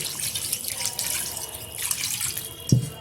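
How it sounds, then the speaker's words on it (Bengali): Water poured into a pot of mutton curry, a continuous close splashing pour that ends in a short clunk. "আগে থেকে দিচ্ছি পরিমাণ মতো জল"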